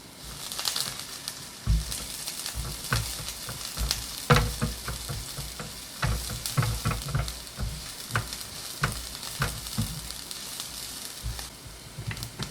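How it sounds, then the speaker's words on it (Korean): Chopped scallions stir-fry in a little cooking oil for an eggplant side dish, giving a close, continuous sizzle broken by frequent spatula scrapes and clacks against the pan. "파를 먼저 볶아 파향을 내주세요."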